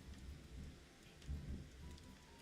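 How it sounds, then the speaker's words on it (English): Thunder rolls during a rainstorm, a low rumble swelling briefly through a steady patter of rain, heard faintly indoors through a microphone. "That thunder was loud."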